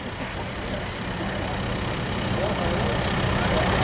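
Modified lawn tractor in the 1,200-pound pulling class, its engine a steady rough drone that builds slightly in loudness over a noisy outdoor pulling event.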